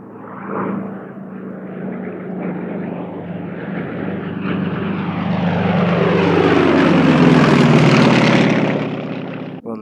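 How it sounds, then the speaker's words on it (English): A Yak-50 aerobatic propeller plane makes a high-speed pass at about 100 feet and 430 km/h. Its radial engine and propeller roar grow steadily louder as it closes in, peak near the end and then start to fade. "We'll now set up for a high-speed photo pass, often referred to as a banana pass."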